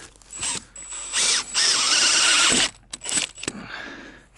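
A Starrett hole saw on a drill cuts through plastic poly pipe in short bursts, the motor whining up and loud for about a second at a time, with pauses and clicks between runs.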